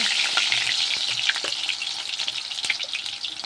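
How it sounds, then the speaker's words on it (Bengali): Potatoes fry in very hot oil in a wok with a dense, bright, continuous sizzle and a scatter of crackling pops, close up and steady, with no voices. "এখন আমি এখানে প্রথমে আলুগুলোকে ভেজে নেব"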